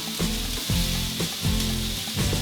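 Broccoli sizzles in a hot stir-fry pan, a steady loud frying hiss broken by a few tossing or stirring bursts roughly every half second, no talking.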